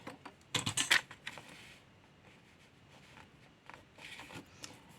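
A paper trimmer cuts decorative paper with a quick close scraping slice near the start, followed by faint rustling and handling noises of the sheet.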